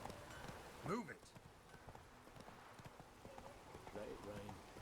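Roach, a horse in The Witcher 3, trots and gallops with a quick clip-clop of hooves under close speech, with a brief whinny-like call near the start.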